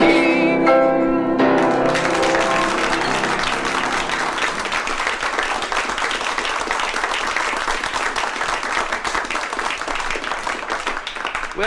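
Audience applause erupts after a sung musical number, starting as the last sung note fades and then holding as a dense, steady wash of clapping for about ten seconds.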